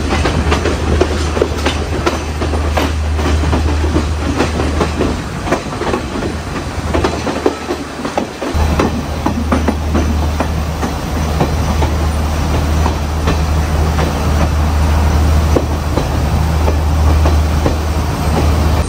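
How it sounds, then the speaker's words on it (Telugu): The Dunhinda Odyssey tourist train running on broad-gauge track in Sri Lanka: a loud, continuous rolling rumble with steady clickety-clack and occasional wheel squeal throughout, heard close with no talking. "ఈ ట్రైన్ యొక్క నేమ్ కనుక చూసుకున్నట్టయితే దున్హిందా ఒడిస్సీ అన్నమాట"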